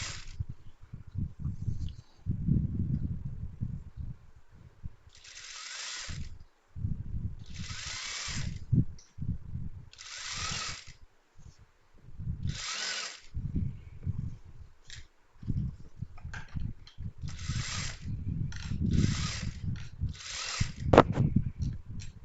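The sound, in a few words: sewing machine stitching a skirt seam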